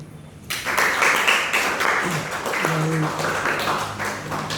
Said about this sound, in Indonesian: kita beri tepuk tangan dulu untuk mereka.